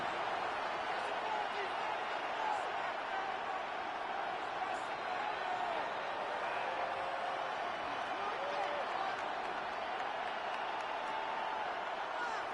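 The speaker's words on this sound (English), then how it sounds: "The crowd at Arrowhead roaring." Steady stadium crowd roar at Arrowhead in the Madden 26 football video game, a constant loud wash of cheering noise late in the game, with no break across the stretch.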